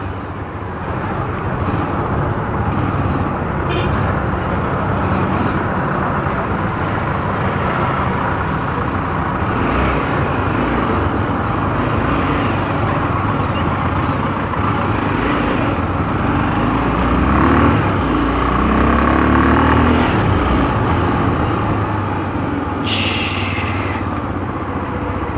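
A motorcycle rides along a road in a steady, loud engine drone with continuous wind and road rumble and no letup.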